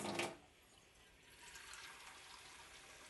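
Water is poured into a measuring cup in a home kitchen while green juice is being made: a brief splashy burst opens, then a quieter, steady trickling fill continues to the end.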